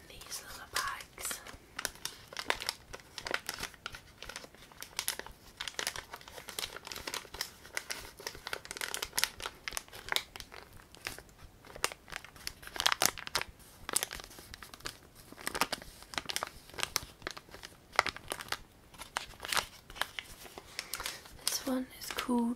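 Small plastic bags holding bath treats crinkle and rustle close to the mic in irregular bursts, while a soft near-whisper voice talks over them.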